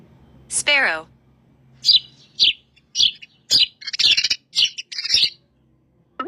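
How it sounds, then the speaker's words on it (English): A sparrow chirps in a rapid series of bright, high, close tweets, a busy run of short calls following a brief sliding call at the start. "Sparrow."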